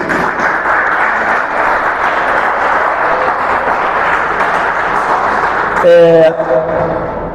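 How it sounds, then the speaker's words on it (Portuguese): Loud, sustained applause from a congregation in a Baptist church, a dense, steady clatter of many hands lasting several seconds, with a voice rising over it near the end. "Vamos aplaudir a Jesus?"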